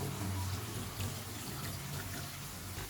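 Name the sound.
water being poured into a bowl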